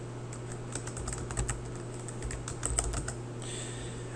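Someone types a password on a computer keyboard, a quick run of light, irregular key taps over a faint steady background hum.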